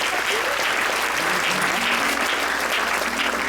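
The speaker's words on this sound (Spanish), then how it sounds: "Y damos otro fuerte aplauso a nuestra Madre" A congregation at a patronal festival in Chuchuca, Zacualpa, Quiché, gives the Virgin Mary a strong round of applause, with thick, even clapping and faint voices mixed in.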